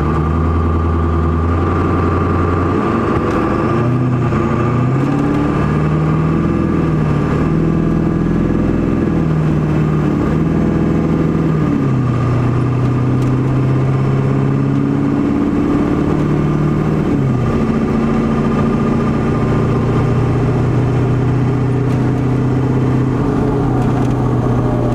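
A lifted Ford 7.3 PowerStroke diesel truck runs at full throttle, its loud engine drone rising and falling through gear changes while it builds boost, heard steadily from inside the cab with no voices.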